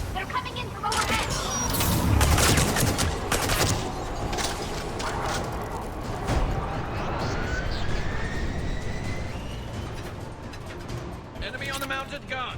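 An enemy shuttle roars overhead amid gunfire in the video game Mass Effect 3, a loud whooshing engine pass layered with shots and bursts, while voices call out over the combat.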